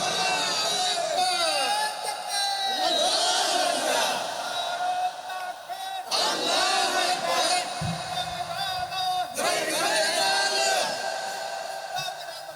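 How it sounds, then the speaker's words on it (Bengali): A large crowd at a Bengali religious gathering shouts takbir in unison, a loud collective cry that rises in three distinct bursts separated by brief dips. "দুটো হাত তুলে আমার আল্লাহকে তাকবীর দিয়ে আরেকবার দেখা"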